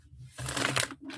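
Tarot cards shuffled during a live reading, a brief close riffle of crisp papery flutter lasting about a second with no voice over it.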